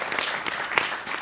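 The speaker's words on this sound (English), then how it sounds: "applause for all of you" Applause from an audience thanking a panel at a conference on investing in a cleaner India, a soft continuous patter of clapping at moderate distance, with a few sharper claps standing out.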